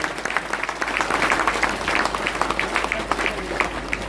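An audience at a religious gathering honoring a seer's 70th birthday claps loudly and steadily, a thick sustained wash of many hands with faint voices mixed in.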